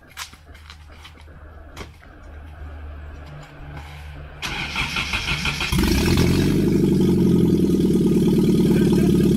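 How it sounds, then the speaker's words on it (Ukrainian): A car engine with its exhaust manifold removed is started: quieter background noise at first, then a brief cranking burst, then the engine catches into a loud, raw, continuous roar close by. "зараз я заведу ненадовго машину без колектора"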